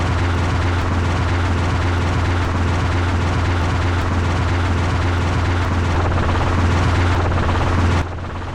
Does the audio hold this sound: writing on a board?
no